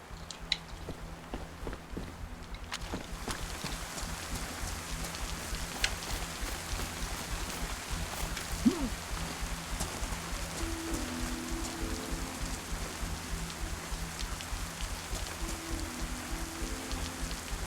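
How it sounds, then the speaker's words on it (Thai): Steady rainfall in the survival video game DayZ pours down as a continuous dense hiss across the whole stretch, with faint footstep-like thuds and a low hum underneath and no voices. "ฝนตกก็ไม่กลัว"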